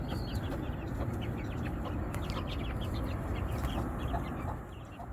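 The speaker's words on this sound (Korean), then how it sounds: "어미닭이 아직도 새끼 들보고 있고 새끼들도 꽤 많이 컸어요" A hen clucks close by amid a busy, noisy farmyard coop the day after snowfall, with faint high peeping from her half-grown chicks scattered throughout.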